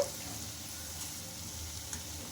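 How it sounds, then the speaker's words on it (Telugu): Potatoes fry in a pan while being turned from side to side, giving a soft, steady sizzle that stays low and constant with faint scraping, no voices over it. "ఇప్పుడు చూడండి రెండు వైపులా బాగా కలర్ వచ్చే వరకు ఫ్రై చేసుకోవాలండి అటు ఇటు తిప్పుకుంటూ"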